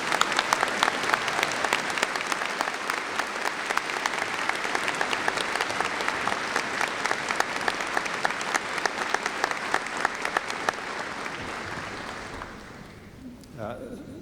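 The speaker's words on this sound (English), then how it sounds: "a big round of applause for our graduates of 2010 in this celebration" Sustained applause from a large audience for the 2010 graduates at a university convocation ceremony, dense steady clapping that fades out toward the end, with some voices underneath.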